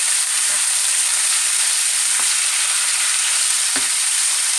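Soaked lentils fry in a pot over browned garlic, giving a steady, close sizzle with a few soft stirring knocks and scrapes.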